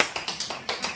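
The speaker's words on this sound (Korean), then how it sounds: "박수 한번 치겠습니다" A church congregation claps in unison during a Sunday service, about eight evenly spaced, fairly faint hand claps in a quick steady rhythm.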